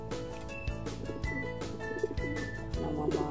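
A breeding pair of pigeons, cock and hen, giving soft repeated low coos in a steady rolling rhythm, close by with faint chirps in the background.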